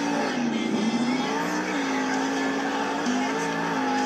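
Monster Jam monster truck engine roaring steadily as it builds speed around an Indianapolis stadium track, a loud continuous drone with a shifting pitch and no clear gaps, crowd and arena noise blending underneath.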